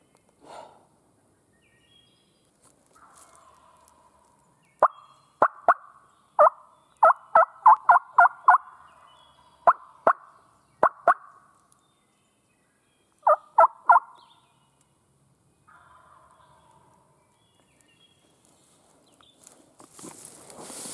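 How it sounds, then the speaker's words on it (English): A wild turkey gobbles on public land in South Carolina, several bursts of rapid rattling calls from a distance in otherwise quiet woods, followed by faint rustling. "Got a bird gobbling now, I'm happy."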